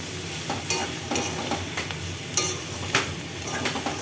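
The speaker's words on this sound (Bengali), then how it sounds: "একটু মশলাটাকে জাস্ট একটু ভেজে নেব" Spice paste frying in a little oil in a pan, a dense close sizzle with repeated scraping stir strokes every half second or so, no voices.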